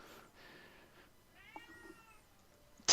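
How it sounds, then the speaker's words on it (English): A cat meows faintly in the background of a quiet room, giving a couple of drawn-out, wavering cries followed by a sudden sharp noise at the very end. "As you faintly hear a cat meow in the background"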